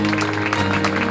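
Audience applause at the Campagna Lupia Fashion Night, a dense, steady wash of clapping from a crowd over a faint tonal hum, lasting about a second.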